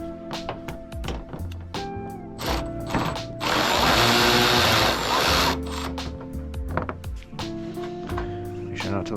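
A ratchet wrench clicks in quick repeated bursts while removing a 10mm bolt under the hood of a Dodge Challenger near the headlight, with a louder continuous mechanical whir in the middle and close, crisp ratcheting before and after.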